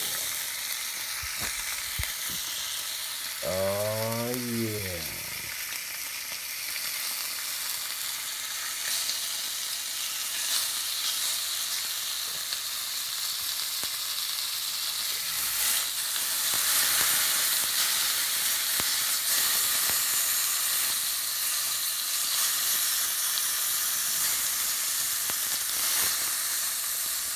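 A pork grind breakfast burger with bacon fries in a pan, giving a steady, close, loud hiss and crackle that runs the whole time; a voice speaks briefly near the start.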